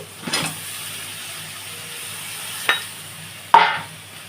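Vegetables and fish heads drop into a pan of spinach curry with garlic paste, giving a soft sizzle under three sharp clattering hits spaced a second or two apart, fairly quiet and close.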